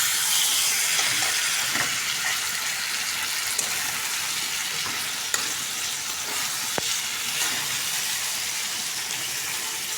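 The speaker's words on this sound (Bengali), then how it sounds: "এখন একটু ভালোভাবে কষাই নেব" Spices sautéed and fried in a pan for a curry hiss and sizzle continuously up close, with occasional stirring clicks and scrapes and no talk.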